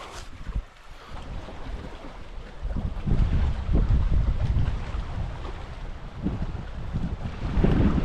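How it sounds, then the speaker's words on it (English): Wind gusts across an open lake in winter, a rough roaring rush rising and falling with buffeting against the microphone, strongest in the middle and near the end. "The wind's picked up."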